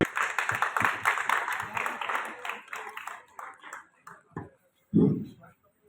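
An audience at a media group inauguration event claps in a burst that gradually thins out, with voices talking over it and a final short clap or thump near the end.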